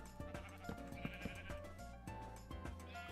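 Minecraft sheep bleating in the video game, a run of repeated wavering bleats in quick succession, close and fairly quiet, with no talking.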